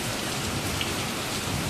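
Heavy monsoon rain pours down steadily outdoors, a dense, loud, unbroken hiss of drops on surfaces with no voices present.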